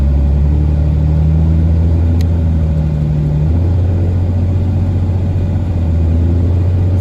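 A car engine drones steadily while driving, a loud continuous low rumble with a slight shift in pitch partway through, no talking.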